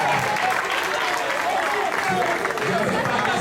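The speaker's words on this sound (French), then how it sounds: "est-ce qu'on peut applaudir pour elle?" Sustained crowd applause for a female artist at a pre-concert gathering, a dense even wash of clapping with voices and cheers mixed in throughout.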